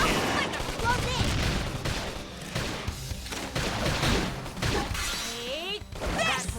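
Rapid gunfire and impacts crackle through a battle in the video game Xenoblade Chronicles X Definitive Edition, dense and continuous, with in-game voices calling out over the shooting.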